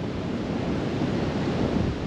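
Strong wind blowing across Kihim beach near Alibag, roaring steadily into the microphone alongside a broad wash of surf, continuous and close with no voices.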